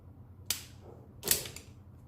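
Powerfix crimping pliers stripping and cutting a cable at close range: two brief sharp snapping clicks about 0.8 seconds apart, the second slightly longer, over quiet background.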